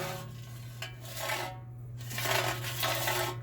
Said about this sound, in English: There's a actual screw in there that fell out of one of the lugs right there.